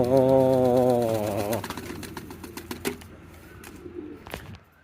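Pigeons cooing on a farm in a long, throaty warble at first, fading into scattered rustling and faint cooing with occasional sharp knocks nearby.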